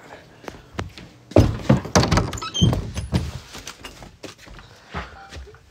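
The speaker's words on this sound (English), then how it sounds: "Let's go knock at the door." Someone knocks on a house door with a cluster of loud, uneven raps and thuds, followed by softer scattered taps and shuffling.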